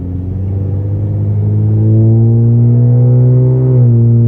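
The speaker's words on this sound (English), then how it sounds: "She really does sound nice with those mufflers" A Pontiac G8 V6 engine rumbles deeply and steadily through its mufflers, the note rising slightly as it revs up, then settling back to a loud idle.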